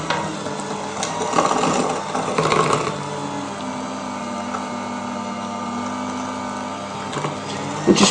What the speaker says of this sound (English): Now I'm going to use my electric mixer. Let's just do it slowly to start with.